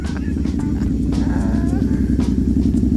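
A 2022 Yamaha YZF-R7 anniversary edition motorcycle engine runs close by with a steady, loud, throbbing idle after being started again, with faint clatter over the rumble.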